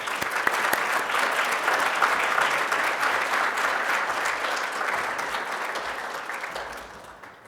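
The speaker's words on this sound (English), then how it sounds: "Let us give all Dr. Heckman a round of warm applause." A room of guests at an awards luncheon gives a warm, sustained round of applause, with dense clapping throughout that gradually thins and fades at the end.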